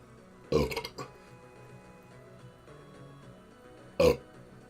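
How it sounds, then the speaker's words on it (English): Two loud, close burps from someone who just swigged RC Cola: a long gurgling one near the start and a shorter one near the end, with quiet background between them. "Sorry for burping. It's because I took a big swig of RC Cola."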